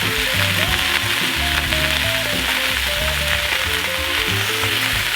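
Beef browning in a hot frying pan gives a loud, constant sizzle and crackle, close and steady throughout, with no voices.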